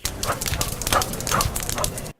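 A police explosives-detection dog barks and whimpers at close range, a quick run of short yips and whines filling about two seconds with no talk over it.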